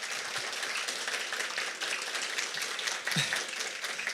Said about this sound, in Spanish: aplausos para Gabriel. ¡Bravo, Gabriel!